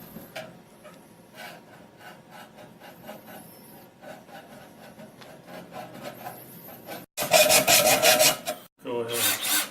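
A steady rasping scrape of a blade cutting through thin metal stove pipe repeats in short strokes, growing louder and harsher toward the end.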